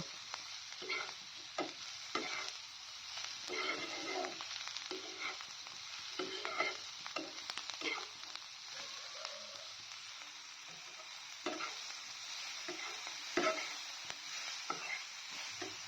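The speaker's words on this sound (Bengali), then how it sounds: "মশলাটা দেওয়ার পর 2 থেকে 3 মিনিট ভেজে নেওয়ার পর" Small fish fry with cumin and turmeric in a quiet, continuous sizzle, with scattered clicks and scrapes of stirring throughout.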